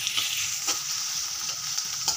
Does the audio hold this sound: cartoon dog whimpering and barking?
no